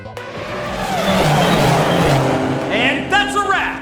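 Race cars roaring through a Grand Circuit race in Trails through Daybreak 2, engines surging loudly and continuously, then rising whines and tire squeals as cars pass near the end.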